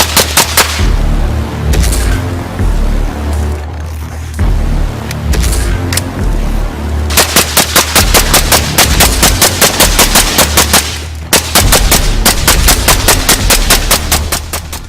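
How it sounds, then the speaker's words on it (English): An unsuppressed Mark 18 rifle with a 10.5-inch barrel fires outdoors, first as several loud scattered shots, then as a rapid, evenly spaced string of sharp cracks. The blasts are very close and dominate the whole stretch. "So I'm going to start off by firing unsuppressed."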